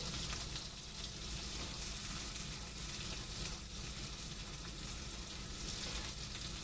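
Onion mixed with asafoetida hits a pan after curry leaves, giving a steady, even sizzle of frying that stays constant throughout, faint and without talk.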